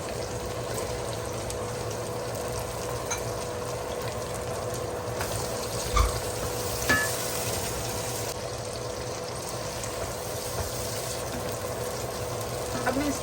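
Boiled chickpeas frying with softened tomatoes in a home kitchen pan, a steady sizzle with faint stirring scrapes and a few soft clicks, close and continuous.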